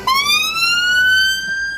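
Emergency vehicle siren on blues and twos outside a police station, a loud rising wail sweeping upward steadily and close by, with no talking over it.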